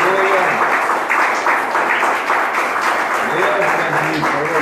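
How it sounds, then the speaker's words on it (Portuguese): Church congregation applauding during an evening service, a steady wash of clapping from many hands throughout, with a voice speaking over it at times. "Aplauda o Senhor nessa noite"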